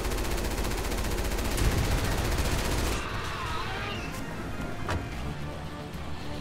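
Rapid overlapping gunfire from the video game Resident Evil 6, a dense sustained burst for the first three seconds that thins into scattered shots, with game effects underneath.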